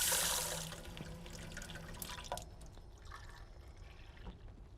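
Water pours briefly from a tap or container into a blender in a home kitchen, a splashing rush in the first second that fades into faint drips and quiet clinks.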